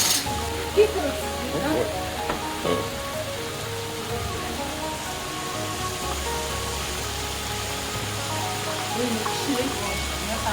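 Carrots and oil gently cooking in a large pot of Bukharan plov for fifty people, a steady soft sizzle like light rain running throughout, with people talking over it.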